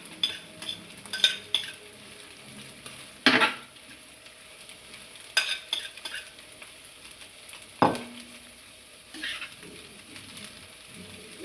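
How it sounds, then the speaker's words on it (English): Cabbage tipped into a hot frying pan for a Jamaican and Nigerian family breakfast, giving a soft steady sizzle with scattered scraping stir strokes and utensil clinks against the pan, quiet and close with no talking. "I'm gonna add my cabbage now."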